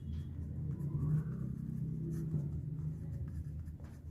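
Pen or marker writing out a Class 10 math solution, a continuous soft scratching and stroking, close and steady, with no talk.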